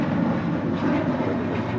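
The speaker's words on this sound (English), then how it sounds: "This is American Airlines Flight 32 departing to JFK on an A321." An American Airlines Airbus A321 departing LAX for JFK gives off a steady, broadband jet engine roar at moderate distance, continuous throughout the brief moment.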